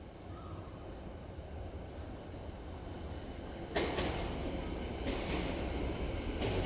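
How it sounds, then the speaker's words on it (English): A Merseyrail Class 777 electric train approaches through a deep underground station on Liverpool's network, a low continuous rumble building steadily, then growing louder and brighter with rail hiss and wheel noise as it nears. "Train approaching."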